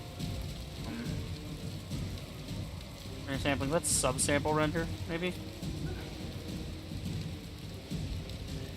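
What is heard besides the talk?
rain and thunder ambience in video game Guild Wars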